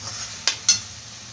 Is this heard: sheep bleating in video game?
no